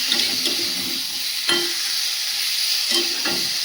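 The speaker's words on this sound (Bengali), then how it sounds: "কেটে রাখা চিংড়িগুলো দিয়ে দেবো। ভালো করে মশলার সঙ্গে কষাবো।" Chopped prawns sautéed with spices in a hot pan, a continuous sizzle and hiss broken by a few sharp scraping stirs of a utensil against the pan.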